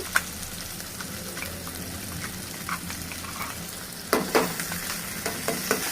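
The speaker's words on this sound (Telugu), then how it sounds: "ఇప్పుడు అవన్నీ ఎంపుకున్నాం కదా నూనెలో" Chilli powder, coriander powder and coconut poppy seed paste fry in oil with a steady, close sizzle, while spoon-on-pan stirring clatters in bursts near the end.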